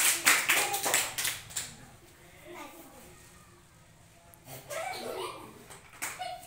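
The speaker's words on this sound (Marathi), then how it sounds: "टाळ्या वाजवा।" A group of children at a classroom game claps hands in a brisk burst of sharp slaps, then after a quieter stretch claps again. An adult and children talk over and between the claps.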